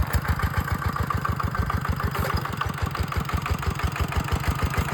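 Farm tractor engine idling while preparing a field for sugarcane planting, a steady low rhythmic chugging with regular fast pulses, close and loud throughout, no voices.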